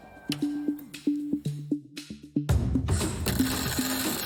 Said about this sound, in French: Il fait les points de soudure et méthode classique